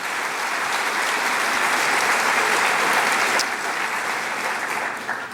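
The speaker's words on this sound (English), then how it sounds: "Let's give her a round of applause" Loud, dense applause from a crowd at a college graduation awards ceremony, continuous clapping that stays strong for several seconds before easing slightly near the end.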